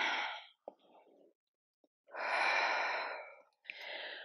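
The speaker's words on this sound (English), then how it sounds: "Big breaths in and out." Deep breathing during a yoga exercise session: slow, long, breathy inhales and exhales, close and fairly soft, separated by short quiet pauses, with no talking.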